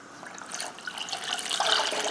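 Water pours into a saucepan already holding sugar on a stovetop, a steady splashing trickle that grows a little louder toward the end, close and alone.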